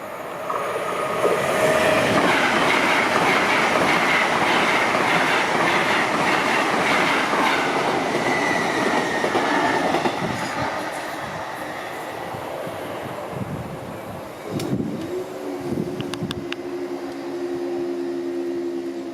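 A passenger train rumbles and clatters past a level crossing at close range, loud and steady for about fifteen seconds with rhythmic wheel clicks, then fades and a brief rising tone and horn-like hum follow.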